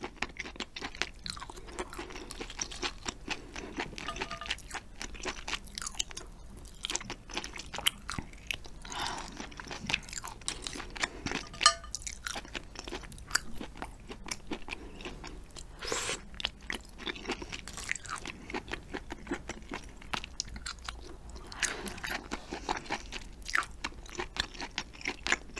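Close, steady crunching and wet chewing of gooseneck barnacles and limpets eaten as seafood, with bites and mouth sounds repeating throughout and no talking.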